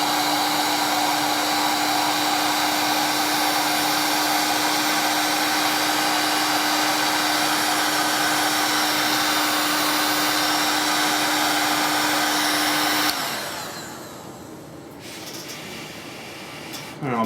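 A heat gun blows hot air to shrink cable sleeving, a loud continuous whooshing drone that holds steady for most of the time, then drops off to a quieter, uneven blowing near the end.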